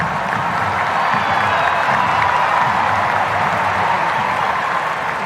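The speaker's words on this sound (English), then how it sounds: "Gentle round of applause and that sore hand from Hayley Raso" A large stadium crowd at a women's football match between the Matildas and Spain gives a steady, dense wash of applause and murmuring, loud and continuous throughout.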